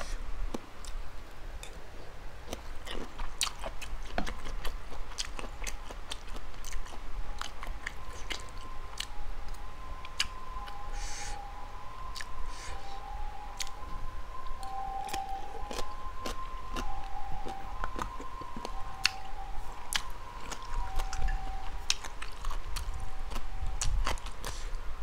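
Steady close-up chewing and crunching of spicy Thai seafood salad with squid, continuous wet bites and clicks throughout, with no talking.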